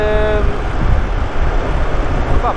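A train rumbles past close by on Route 66 near Gallup, New Mexico, with a steady heavy roar; a brief horn-like tone sounds at the very beginning.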